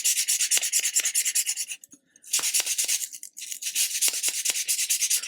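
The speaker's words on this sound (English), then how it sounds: "we're just going to go up and down and get them nice and smooth" Sandpaper rubs rapidly up and down a wooden dowel for a 1/80 scale model ship display stand, a close, brisk scratching rhythm broken by two short pauses.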